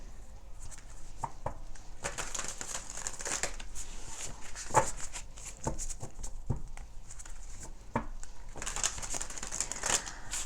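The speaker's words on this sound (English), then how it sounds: "Let's give it a good shuffle." An oracle card deck being shuffled by hand, with soft papery riffles and irregular taps and slaps of cards at close range, repeating over ten seconds.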